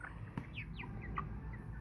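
An American Bresse chicken lets out a few short clucks and chirps at close range while being handled during a move. A faint thump is also heard, with no talking.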